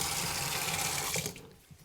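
Warm water runs from a tap into a workshop sink to soak leather for a dog collar, a steady hiss that cuts off near the end, leaving a few faint drips and clinks.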